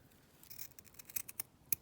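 Scissors snipping through hessian ribbon at a crafting table, a few quiet crisp cuts coming in short bursts, faint and close.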